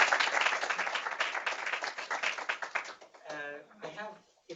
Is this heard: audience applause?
yes